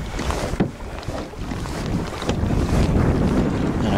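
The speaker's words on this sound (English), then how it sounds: "I got a crosswind right now" Crosswind buffets a kayak out on the water, gusty rushing noise and microphone wind rumble with a few splashy knocks, close and fairly loud, no talking.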